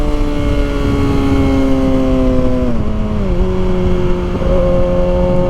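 A 2023 Kawasaki ZX-6R motorcycle revs loudly through first gear in a parking lot, its engine whine holding high and then dropping in pitch as it shifts and settles, close and continuous.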